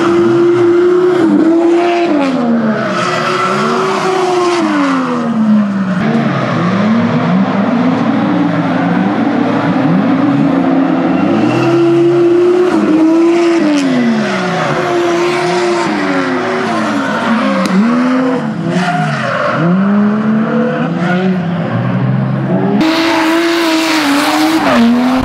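A drift car in Japan slides through repeated corners, tires squealing in long wavering howls over a constantly revving engine, loud and close throughout with brief shifts in pitch as it changes direction.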